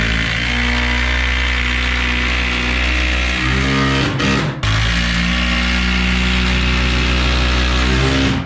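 A power drill drives 5-inch construction screws into a timber joist in a reclaimed barn-timber log cabin, a loud continuous whir close by with a brief cut-out and restart partway through, with no talking.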